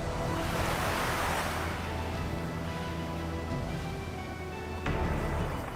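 Sea waves break steadily on the shore where the Saptarishi are said to have stood, a continuous loud rush of surf with a fresh swell near the end.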